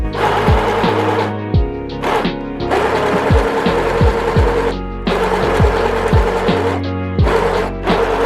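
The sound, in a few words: sewing machine stitching a fanny pack lining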